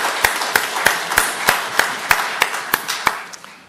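A church congregation claps in unison to a slow, steady beat, about three sharp claps per second, close and loud, tapering slightly at the end.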